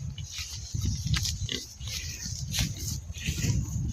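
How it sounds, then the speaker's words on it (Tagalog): A large pig grunting and oinking in repeated rough bursts, close by on a farm. "Baboy dako kaing baboy oh."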